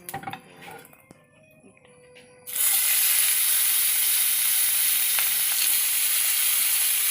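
Hilsa fish drops into hot oil in a home kitchen and bursts into loud, steady sizzling that continues unbroken, preceded by a few quiet clinks of utensils.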